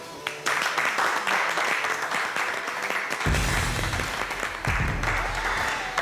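A studio audience applauds the introduction of a player on a French poker television show, steady clapping that starts sharply and holds loud throughout, with a low rumble joining midway.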